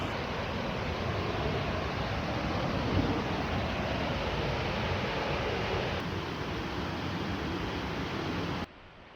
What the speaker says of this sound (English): I might just have a look up at this little cascade here.